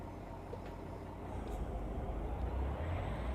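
A truck engine idles in American Truck Simulator, a steady low rumble holding at moderate level and swelling slightly toward the end, with no other sounds layered over it.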